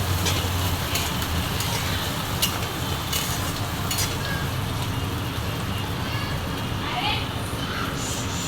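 Curry leaves and onion sizzle steadily in a home kitchen pan, with occasional stirring scrapes, while someone talks over the frying throughout.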